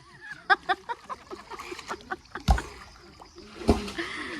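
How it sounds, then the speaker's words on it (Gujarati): A child dives and splashes in a half-filled resort swimming pool, giving a run of short, close splashes and water slaps with two sharper plunges, plus faint voices in the background. "નાક બંધ કરીને વળી એક ડૂબકી લગાયા"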